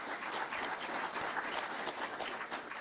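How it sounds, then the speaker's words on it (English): An audience at a Burke County expansion announcement for American Roller Bearing applauds steadily, a dense, even patter of many hands clapping throughout without talk. "So let's give ourselves a hand."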